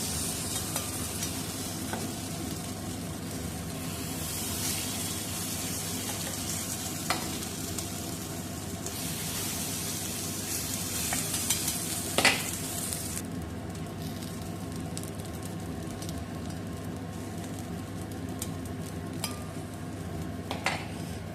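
Sprout batter sizzles steadily on an oiled dosa griddle, a constant close hiss of frying with a few faint clinks of a utensil against the pan.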